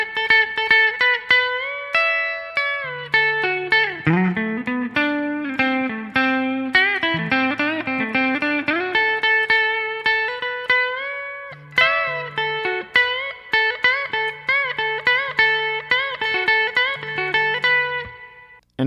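An electric guitar plays a song's solo, a continuous run of bright, clear picked notes with slides and a steady rhythm accompaniment underneath.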